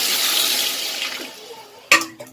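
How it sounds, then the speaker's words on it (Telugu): Water pours into a cooking pot of fried ginger-garlic masala for chicken biryani, a loud rushing splash that tapers off before a sharp knock of the vessel and a brief trickle. "ఇప్పుడు ఇందులో వాటర్ వేసుకోవాలి"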